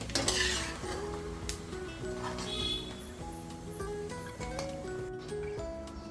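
Mustard seeds, about fifty grams, frying in a pan while making red chilli spice masala, a continuous sizzle with stirring scrapes and occasional clinks of the pan, close and steady, with no talk.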